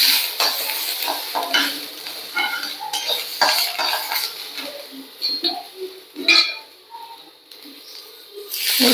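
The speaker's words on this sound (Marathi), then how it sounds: "आता ह्याच्यातच मी हे आलं आणि लसणाचे तुकडे पण भाजून घेणार आहे असे." Ginger and garlic pieces roasting in a pan with frying sizzle, broken by repeated scraping and stirring clinks of a metal utensil against the pan, close and steady throughout.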